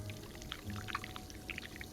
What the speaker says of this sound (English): to start, we need to pour the wax from the pot